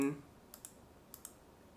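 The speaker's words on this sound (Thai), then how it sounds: "เป็นคีย์บอร์ดนะฮะเป็นโปรแกรมจำลองคีย์บอร์ด" A keyboard simulator program in Win93 gives a few sparse key clicks, two pairs of short taps, faint and close, after a brief voice at the start.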